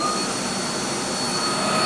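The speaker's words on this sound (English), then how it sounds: "To use the vacuum, you're just going to bring up your on-off switch." Nacecare RSV 150 electric backpack vacuum cleaner running on its low setting, a steady loud whine and airflow roar with a constant tone, continuous and alone without talk.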